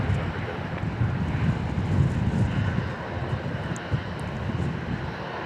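Jet airliner taking off from runway 31 left at Dallas Love Field, heard from the top floor of a parking garage as a broad continuous roar with wind buffeting the microphone, steady and moderately loud.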